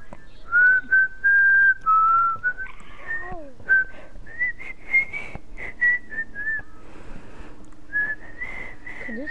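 Whistling in the video game GTA 5, a melodic sequence of clear sustained and gliding whistled notes in uneven phrases, loud and close, with brief low noises between.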